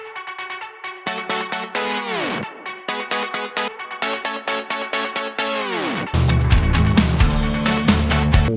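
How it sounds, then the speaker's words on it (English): Synth part from a track, a warbling transmitter-like tone over synth stabs. It has sweeping pitch glides and rhythmic chopped chords, and near the end it swells into a fuller, louder mix with bass entering. No voices. "this like transmitter synth I called it, which kind of just sounds like."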